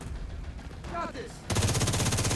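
Gunfire in The Division 2 during a firefight, rapid automatic bursts that kick in abruptly and continue loudly to the end, preceded by a brief radio-style voice over muffled shooting.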